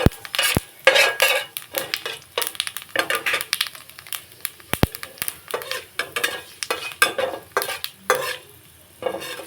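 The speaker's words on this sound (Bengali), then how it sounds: "কালো জিরেটা ভালো করে ভাজা হয়ে গেছে।" Black cumin seeds fry in hot oil in a wok, a busy sizzle punctuated by frequent scraping and clinking stirs of a spatula against the pan.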